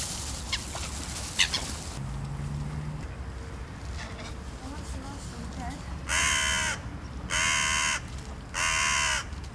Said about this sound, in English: Crows everywhere, it's like something out of Hitchcock.